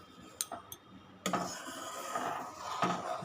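Homemade ghee being stirred in a hot pot, with a few sharp metallic spoon taps and scrapes against the vessel up close, and a soft simmering hiss filling the gaps between them, with no speech.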